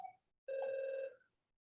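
During a school board meeting, a phone gives one short, clear electronic ring burst, a bright sustained tone that stops abruptly and is heard alone in near silence.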